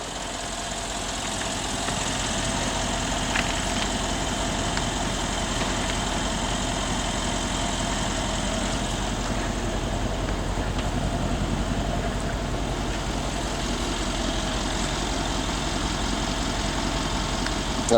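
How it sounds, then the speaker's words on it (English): A 2012 Mercedes-Benz CLS63 AMG V8 engine idles steadily and evenly throughout, a constant low rumble with a faint hum, no voices. "That engine sounds really great"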